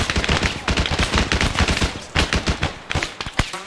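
Rapid gunfire in ArmA 3, dense bursts of automatic and single shots cracking close and loud throughout, with no speech over it.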